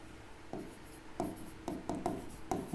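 Marker or chalk strokes on a board during a Hindi-language chemistry lesson on displacement reactions, a few short scratchy bursts spaced irregularly, close and fairly quiet, with no talk.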